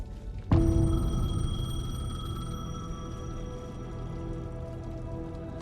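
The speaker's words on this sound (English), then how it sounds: "The payphone was ringing." Payphone ringing in the video game Alan Wake 2, a single sharp metallic bell strike that rings on with a long, sustained tonal decay.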